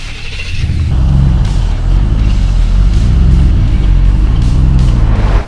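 A 2018 Gen 2 Ford Raptor truck with a 1300 hp twin-turbo V8 and a rebuilt front end, idling loud and close with a deep, steady low rumble and a slight rise as it pulls out.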